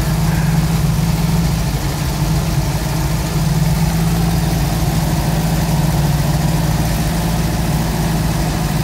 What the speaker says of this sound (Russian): Четырехсотый москвич